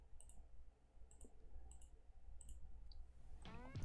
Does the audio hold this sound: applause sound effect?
no